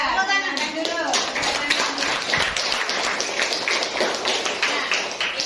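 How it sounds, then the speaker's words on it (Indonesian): A classroom of children clapping, rhythmic patterned claps at a steady pace with voices chanting and calling over them, close and loud throughout. "Tepuk tangan dulu."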